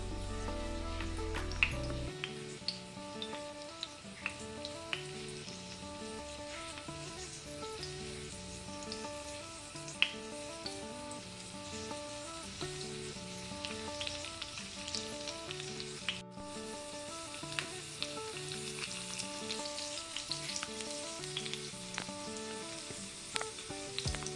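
Long pieces of narba fish sizzle steadily as they shallow fry on a hot griddle, a continuous crackle running the whole time alongside soft background music.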